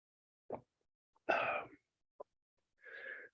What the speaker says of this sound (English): Cough is so annoying, right?